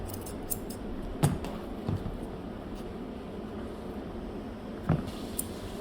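Grooming scissors cut a Coton de Tulear's fur. Three crisp snips are spread over a few seconds against a steady low background hum.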